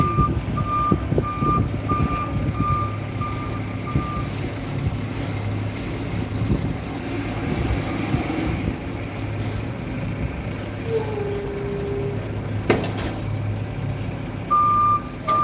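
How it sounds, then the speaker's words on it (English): Outside, a truck reversing sounds a repeated high beep in a steady rhythm, along with a low diesel engine rumble and brief air-brake hisses, with no speech over it. "Jesus Christ, this truck"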